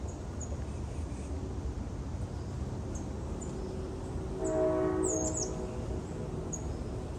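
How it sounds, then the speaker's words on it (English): A faint, low rumble of a distant train rolls in midway under steady outdoor ambience in a nature preserve, with a few bird chirps scattered above. "You can hear the train in the background."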